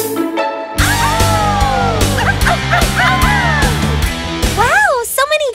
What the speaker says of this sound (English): who are these two little dogs?